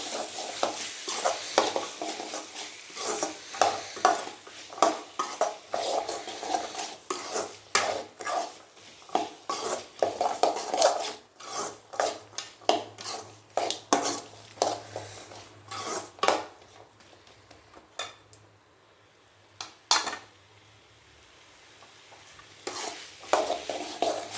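A spoon stirs vegetable biryani mix with carrots and beans in a pan, making repeated rhythmic scrapes and clinks against the metal over a soft sizzle, slowing toward the end.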